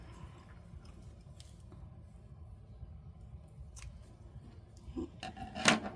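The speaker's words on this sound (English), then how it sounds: "let's first cut these strands open" Scissors snip through strands of bargain beads strung on cord, a few quiet cuts close by, with the sharpest snip near the end over a soft background hiss.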